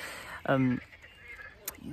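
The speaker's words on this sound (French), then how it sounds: "Il y a plein de canards là" A short honking quack rings out once at moderate distance, nasal and buzzy, from a flock of ducks outdoors, followed by quiet ambient noise.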